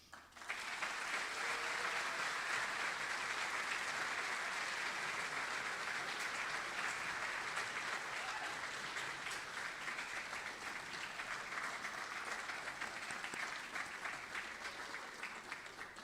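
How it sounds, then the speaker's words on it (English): Audience at the Frosty Awards ceremony applauds in a long, dense, even wave of clapping that holds steady and tapers slightly toward the end, with no talking over it. "Let's give Sherry and Alan one more big round of applause"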